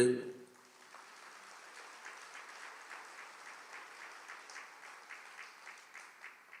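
An audience at a Catholic priest's talk claps together in a steady, moderately fast rhythm after a short opening sound, the applause fairly faint and sustained with no speech over it.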